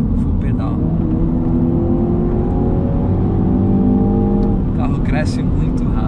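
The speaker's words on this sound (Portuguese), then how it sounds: "Vou fazer mais uma retomadinha aqui para vocês observarem, ó. Full pedal." A 2.0-litre turbo MINI Cooper S (F55/F56) accelerates at full throttle on a highway, heard from inside the cabin. The engine drone is loud and steady and climbs in pitch under heavy road and wind noise.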